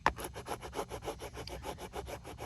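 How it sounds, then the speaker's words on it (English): Firm hand rubbing over a transfer design to press it into place, heard as a steady, close back-and-forth scrubbing in an even rhythm of about five strokes per second, with no talking. "And just rubbing over the transfer design."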